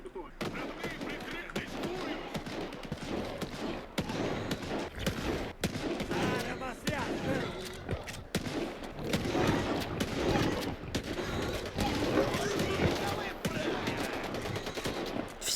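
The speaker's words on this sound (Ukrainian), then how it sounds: "а що в нас тут за стрілянина?" Sustained gunfire rattles through a S.T.A.L.K.E.R. 2 swamp area, dense bursts of automatic shots and single cracks going on continuously at moderate distance, with someone talking over the shooting.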